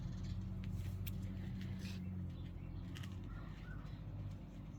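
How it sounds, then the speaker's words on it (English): Steady low city traffic rumble drifts in from outside an apartment at night, a continuous distant drone with a few faint higher chirps and rustles over it, no voices. "The traffic outside is very noisy."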